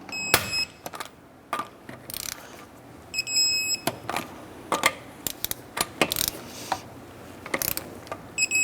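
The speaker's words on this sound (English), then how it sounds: "And torque down our wheels to 100 foot-pounds." Lug nuts on a 2006-2013 Chevrolet Impala wheel being torqued down with a wrench give a run of sharp metallic ratcheting clicks and clacks in irregular bursts, close and fairly loud, with no talking.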